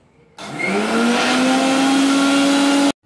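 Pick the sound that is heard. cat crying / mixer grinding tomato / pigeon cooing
mixer grinding tomato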